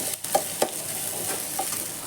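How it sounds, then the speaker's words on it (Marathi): Onion and tomato sizzle steadily in a pan while being stirred, with a few soft scrapes and clinks of the spoon over a continuous frying hiss. "सो आतां ह्यो कांदो आनी टोमाट बरें फ्राय करून घेवया."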